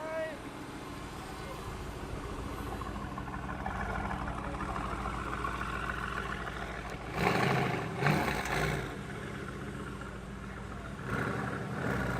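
An SSC Ultimate Aero supercar with 1,287 horsepower rumbles and rolls away with a low engine drone, its revs briefly swelling louder midway before settling, while people talk nearby.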